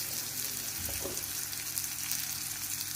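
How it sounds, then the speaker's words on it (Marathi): Spinach frying in a pan gives a soft, steady sizzle with a light hiss throughout, faint and continuous with a brief stir near the middle, no voices. "पालक भाजला आहे चांगला. जरासा कलर बदलू दे."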